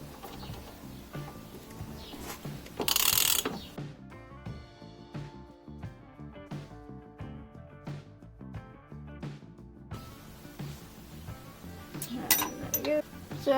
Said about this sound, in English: we're going to go ahead and remove this nut and drop this part down